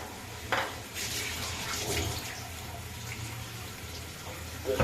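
Tap water runs into a sink while a cooking bowl is rinsed under it, a steady splashing stream with brief louder bursts where the utensil meets the flow.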